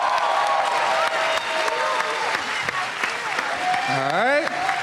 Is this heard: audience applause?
yes